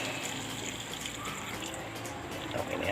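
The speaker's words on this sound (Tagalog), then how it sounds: "para tuloy-tuloy yung kanyang pagkulo, mainit na tubig" Hot water pours steadily into a pot of simmering beef stew, a continuous close gushing splash lasting the whole moment, with no voices.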